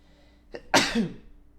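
A single sharp sneeze, close and loud, preceded by a short intake of breath, with quiet room tone around it.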